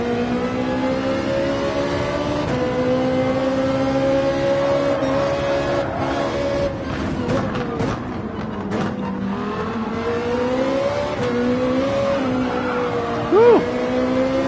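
A Ferrari 458 races around the Sardegna track in Gran Turismo 7, its engine droning steadily and loudly throughout, pitch climbing and shifting through the gears with a brief bump of extra noise near the end.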